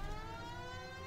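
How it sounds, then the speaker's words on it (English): A steady electronic siren wails faintly in L.A. Noire: The VR Case Files, its tone holding level and unbroken for about a second. "there's a siren going"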